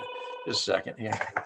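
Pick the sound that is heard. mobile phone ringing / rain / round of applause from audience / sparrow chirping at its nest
mobile phone ringing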